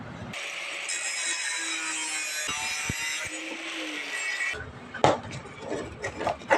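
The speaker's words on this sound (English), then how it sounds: "I'm going to cut this out with an angle grinder." Angle grinder cutting a metal saw blade outdoors: a sustained high, harsh whine of the disc biting steel for several seconds, then a stop followed by scraping, clanks and handling noises.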